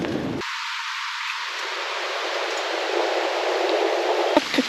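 Rain starting on a mountain hike along Jindallae Ridge on Cheonggyesan, heard as a continuous even hiss of falling drops with a muffled, filtered quality and a few small knocks near the end, with no talking.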